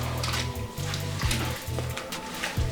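Two pounds of pumpkin being stirred into a pumpkin ale beer mash, giving a steady wet churning and sloshing with a low rhythmic pulse and occasional knocks against the vessel, close and continuous.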